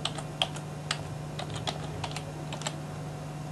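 Keystrokes on a computer keyboard as a folder name is typed, a short run of light, irregular clicks close by over a steady low hum, with no talking.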